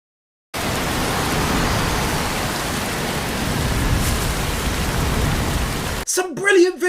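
Heavy rain and storm weather in an anime scene, a steady loud wash of downpour lasting several seconds before breaking off abruptly into a brief burst of voices and music.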